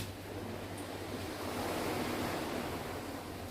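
Ocean surf washes ashore at a beach resort in Montego Bay, Jamaica, a continuous soft rushing roar with a light wind rumble, steady and unbroken, with no one speaking.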